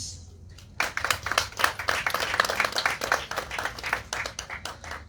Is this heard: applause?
yes